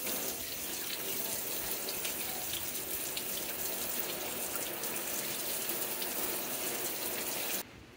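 Water mixed with bleach runs through a Camelbak hydration bladder, a steady rushing, splashing flow that continues evenly before dropping off abruptly near the end.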